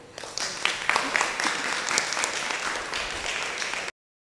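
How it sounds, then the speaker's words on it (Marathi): A studio audience at a Marathi housewives' contest show applauds a contestant, a dense, even burst of clapping lasting nearly four seconds before cutting off abruptly. "काकींसाठी जोरदार टाळ्या"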